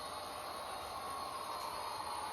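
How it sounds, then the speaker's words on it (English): A model train runs along its track, a steady, faint rolling hum with a light metallic rattle that holds evenly throughout without speech. "I have a train coming"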